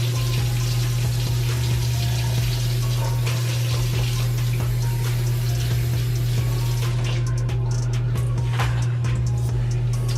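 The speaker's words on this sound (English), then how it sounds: "I'm just washing the knife that I cut the shrimp with." Steady broadband rush of kitchen tap water running over a knife being rinsed clean after cutting shrimp, continuous and close, with a low hum underneath and the flow thinning near the end.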